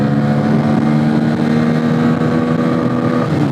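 A Bajaj Pulsar N160 motorcycle engine revs hard toward redline while riding, a loud, steady, rising drone with strong wind rush, close to the microphone and without talk.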